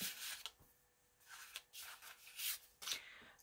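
Paper pages of an old illustrated book on moths of Britain rustle and flip one after another, soft brushing swishes in an uneven rhythm, close and quiet.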